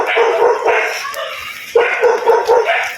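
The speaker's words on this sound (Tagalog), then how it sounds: "Ay yung aso, sumusunod sa akin yung aso mga ka-business." A dog barks and yips in short bursts close by on a street, loud and repeated, with a brief pause midway before the barking resumes.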